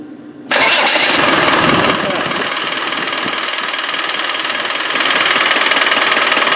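A Land Rover 300Tdi turbo diesel engine cranks and catches abruptly, then settles into a loud, steady rumbling idle close by, briefly revving near the end.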